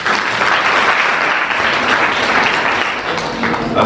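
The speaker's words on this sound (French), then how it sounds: "L'acclamation pour ce monsieur" Loud, dense applause fills the hall for a guest of honour at a youth public-speaking contest, a steady wash of clapping hands with no break from start to finish.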